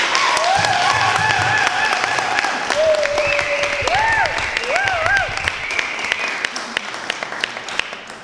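A room full of people at a surprise birthday celebration applauds, steady clapping with voices and whoops rising over it, then tapering off into scattered claps.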